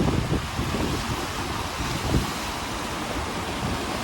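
Turquoise water of the Thun river in Switzerland flowing below a shopping area, a steady broadband rush mixed with wind noise on the microphone, continuous with no talk.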